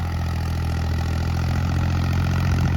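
An old New Holland 11 model tractor engine runs steadily at idle, a loud, close, continuous low diesel rumble with a constant drone and no talk.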